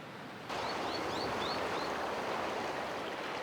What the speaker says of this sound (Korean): 와, 파도가 세긴 센데